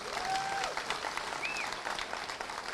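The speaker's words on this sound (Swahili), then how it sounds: "Tupigie Kalonzo makofi." Crowd applause for Kalonzo Musyoka at a DCP party rally in Magarini, Kenya, a steady dense clatter of many hands, fairly distant, with a faint whistle rising over it.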